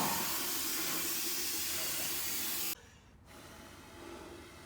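A person blows air to clear metal debris, producing a continuous breathy hiss for nearly three seconds before it stops abruptly, leaving quiet background.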